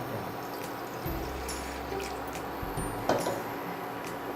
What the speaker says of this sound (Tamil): ஒரு பேன் வச்சுட்டு அதில் கொஞ்சம் தண்ணி ஊற்றிடுங்க.